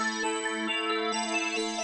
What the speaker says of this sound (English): Here's what halftime sounds like by alone